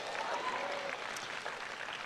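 A church congregation in Manila claps together, a soft, sustained patter of many hands heard from a distance with faint voices underneath.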